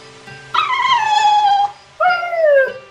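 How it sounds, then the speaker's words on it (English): Two dogs in Tales of Berseria let out two drawn-out, high, sliding whimpering whines, the first longer and the second rising then falling, close and clear against a quiet background. "They've been whimpering like this for an hour now."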